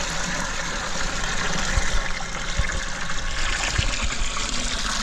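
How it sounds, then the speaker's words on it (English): Water is poured to wash a cow's hooves in a South Sudan forest, a steady splashing trickle with a few soft knocks, fairly close and without talk. "Just pouring some water."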